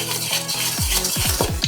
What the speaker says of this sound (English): So now just mix everything well